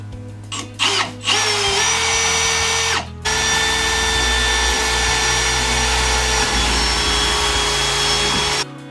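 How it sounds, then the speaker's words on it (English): A power drill bores pilot holes into a wall for mounting a grab bar, running loud and steady for most of the stretch after a few short starting bursts, with one brief pause midway. "We're going to go ahead and drill our pilot holes."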